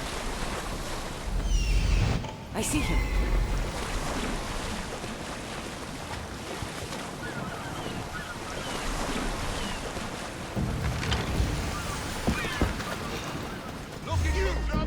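Ocean waves wash and roar around a boat at sea in Assassin's Creed Odyssey, a broad continuous surge with gusting wind, steady and fairly loud, while a voice briefly speaks over it.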